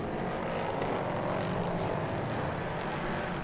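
Race car engine in a Prototype Cup Germany race at the Nürburgring, heard muffled through a window: a steady, broadband drone that holds at an even level throughout, with no talk over it.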